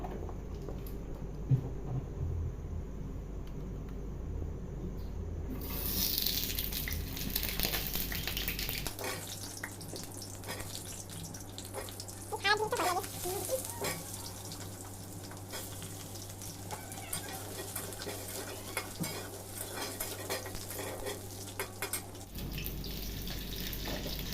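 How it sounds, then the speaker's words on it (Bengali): Oil sizzling steadily in a wok as potatoes fry, with occasional stirring and clattering, interrupted by bursts of running water from a tap. "কড়াইয়ে তেল দিয়ে আলুগুলো প্রথমে ভেজে নেবো"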